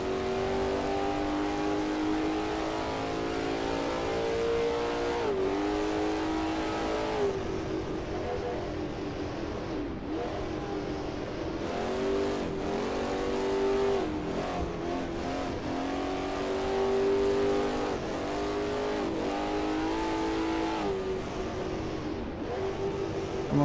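1939 Grand Prix race cars in Assetto Corsa, racing at Chimay, howl with loud engine tones that rise and fall through repeated gear changes and revving, with a second car audible nearby and no talk.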